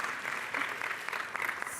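An audience breaks into brief, steady applause for Onyx, a shelter dog, at a conference talk, a short burst of dense clapping.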